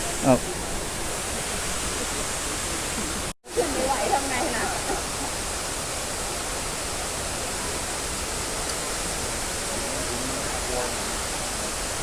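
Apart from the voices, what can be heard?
waterfall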